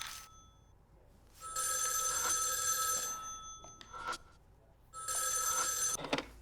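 A telephone bell rings in two long bursts in the Spirit Hunter: NG video game, bright and insistent, with a short quiet gap and a few soft knocks between the rings.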